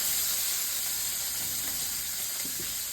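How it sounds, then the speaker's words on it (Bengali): Small cubes of paneer fry in a pan with a steady, soft sizzle and hiss, plus a few faint stirring clicks near the end. "পনিরগুলো প্রথমে একটুখানি ভেজে তুলে রাখবো।"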